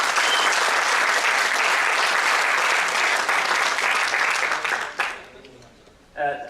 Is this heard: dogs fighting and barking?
no